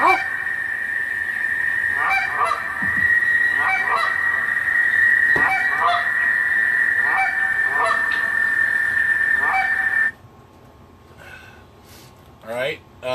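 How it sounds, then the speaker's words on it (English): Goose honks in a repeating rhythm, high-pitched calls over lower honks, fairly loud and near for about ten seconds before dropping to quieter, scattered sounds. "So it's a high-pitch cluck, or high-pitch honk and a low-pitch honk."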